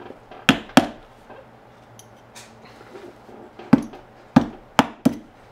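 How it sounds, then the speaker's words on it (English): A hammer drives 6-ounce upholsterer's tacks into a Malian mud cloth ottoman, giving crisp, close wooden knocks in irregular clusters: two quick blows, a pause with faint light taps, then several more strikes. "we're going to get 3 more tacks, 1 in the middle, and a couple off to the side"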